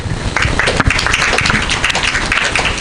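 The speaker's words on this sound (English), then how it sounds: "let's give her a better clap" Steady audience applause at a youth digital development forum as a speaker comes forward, dense overlapping clapping filling the room at an even level throughout.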